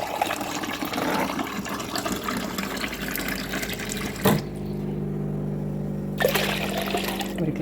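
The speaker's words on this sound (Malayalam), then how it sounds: "വെള്ളം ചേർക്കാം" Water poured into a glass of fruit juice in a home kitchen, a continuous splashing pour that stops briefly, then resumes as a quieter trickle, with faint speech.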